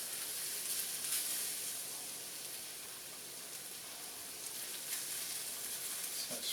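Onion frying on a griddle during smash burger cooking gives a steady, moderate sizzle and hiss that holds evenly throughout with no talk.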